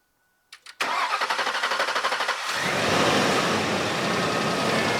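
A Ford F150 truck engine, 11th generation, cranks with a rapid rhythmic starter chatter for a couple of seconds, catches, and settles into a steady, loud idle.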